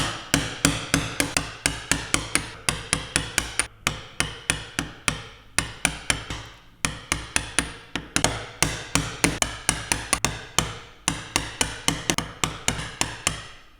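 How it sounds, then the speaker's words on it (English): Sharp mallet blows drive a chisel into wood while chopping out a hand-cut dovetail joint, dozens of crisp close knocks in quick rhythmic runs separated by brief pauses. "chisel in the shoulder line, do a few taps square like that"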